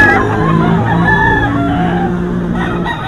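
Gilmore gamecock stag crowing close and loud, one drawn-out crow filling the moment with clucking undertones and faint background noise.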